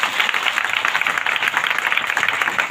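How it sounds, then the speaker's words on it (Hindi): A church congregation clapping for the Lord, a dense, steady patter of many hands applauding together at a fairly loud level, with no voices over it. "एक बार प्रभु के लिए ताली तो बजाए"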